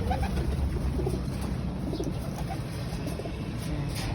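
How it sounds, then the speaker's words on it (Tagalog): Pigeons coo softly in a loft, low murmuring calls repeating over a steady background hum, fairly faint and with no one talking. "Ayan sila mga kalapati."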